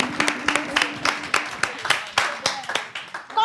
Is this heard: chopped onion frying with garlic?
no